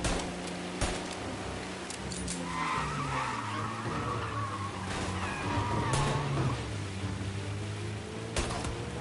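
In a Mafia driving game, a car's tyres squeal in a long, wavering skid over a steady engine roar, with sharp impact bangs near the start and end.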